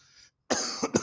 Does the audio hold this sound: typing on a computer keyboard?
no